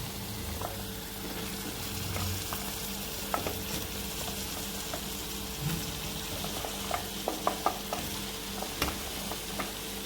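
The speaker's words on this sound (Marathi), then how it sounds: "आता यात आपण आपलं कवळं किंवा गंगाफळच्या फोडी आपल्याला घालायच्या आहेत" Pumpkin pieces frying in hot oil in a pan for a Maharashtrian vegetable dish, a steady low sizzle with scattered light clicks and scrapes of stirring throughout, moderately quiet and without talk.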